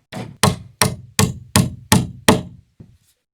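Common nails being hammered into treated pine boards, seven sharp, close, evenly spaced blows followed by a lighter final tap, ringing briefly after each strike.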